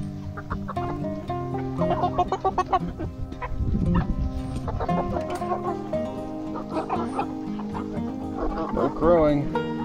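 A flock of young chickens and roosters clucks and chatters densely up close, with overlapping calls and a brief strained crow near the end.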